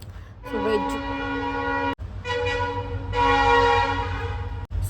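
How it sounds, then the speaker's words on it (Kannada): A passing train's horn blares in long sustained tones with a brief break, loud and close, over a low rumbling background, heard from a home kitchen. "ಸೊ ಈ ಟ್ರೈನ್ ಸೌಂಡ್ ಬೇರೆ"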